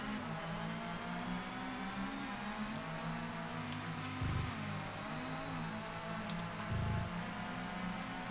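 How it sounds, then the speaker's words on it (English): Racing cars in the PS1 game TOCA 2 Touring Car Challenge drone steadily behind the player, a continuous engine whine with two brief louder swells as cars close in, mid-distance and unbroken throughout. "I can hear cars behind me."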